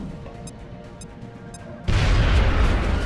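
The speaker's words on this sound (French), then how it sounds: "Balance la grenade." Grenade explosion in the game XCOM: Enemy Within: a quiet stretch with faint ticking sounds, then a sudden loud, low boom that keeps rumbling to the end.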